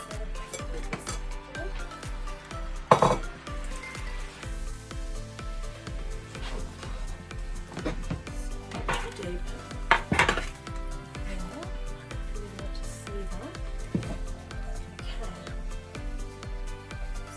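A baking tray and two pans are handled in a home kitchen while making Irish yellowman. Metal clinks and clatters come close and irregularly, with a few sharp knocks, under steady background music.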